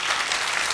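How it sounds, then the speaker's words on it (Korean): An audience claps for a pansori performance, a dense, even wash of many hands applauding together that holds steady and fairly loud throughout the brief moment. "손뼉 소리 받아본 지 참 오랜만입니다."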